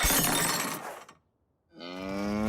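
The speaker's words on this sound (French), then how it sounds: "Ben, c'est une vache." A loud crash of shattering glass, a moment of silence, then a long, loud cow moo close by.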